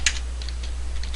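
A few quick keystrokes on a computer keyboard while typing into Notepad, a short, close burst of light clicks with small gaps.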